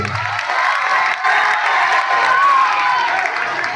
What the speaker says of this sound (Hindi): स्कूल पे गोटे जोरदार करताली हो